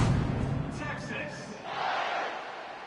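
Texas football stadium crowd roaring just before kickoff, a loud, continuous wash of cheering and shouting that swells again toward the end, with voices blended throughout.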